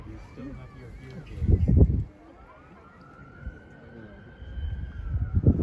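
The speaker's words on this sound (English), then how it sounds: "The sirens add ambience to it too." A faint emergency siren wails steadily in the distance while a voice talks nearby, with louder bursts of sound at the start and end.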